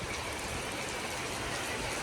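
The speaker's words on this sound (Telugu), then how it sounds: "కానీ వాన పడతామని చూడండి." Steady rain pours down in a village during a break from a bike ride, a dense, even hiss of drops hitting surfaces that holds constant and fairly close throughout, with no voices.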